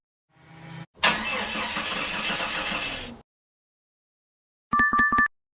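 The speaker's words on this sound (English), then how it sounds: "Sound is car dead battery." A car with a dead battery cranks without catching: a short burst, then about two seconds of steady, grinding starter noise that stops abruptly. A brief bright chime follows after a pause.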